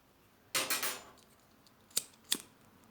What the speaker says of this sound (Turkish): İpimi kesip koparıyorum